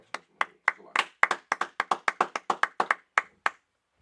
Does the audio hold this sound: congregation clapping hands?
yes